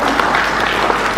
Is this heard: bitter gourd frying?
no